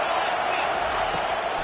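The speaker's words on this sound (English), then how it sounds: "Decibels rising as the crowd gets behind this defense on third down." A college football stadium crowd roars steadily for the defense on third down, a dense, sustained wash of cheering and yelling filling the whole moment without any break.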